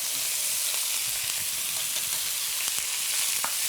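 Beef sizzling hard in a very hot wok, a dense, loud hiss running steadily throughout with faint scattered crackles and no talk.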